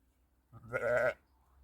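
A single sheep gives one close, clear bleat of about half a second, with quiet surroundings before and after.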